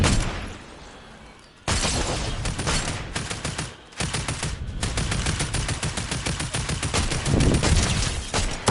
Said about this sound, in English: They're not shooting at me, they're shooting at each other.